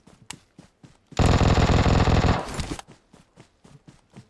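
A long, loud burst of rapid automatic gunfire erupts during a BGMI match, running for over a second, with sparse single shots and clicks before and after it.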